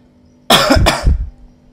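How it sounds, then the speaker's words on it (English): A person coughs twice in quick succession, close and loud, against a quiet background with a faint hum. "Sorry about the coughing."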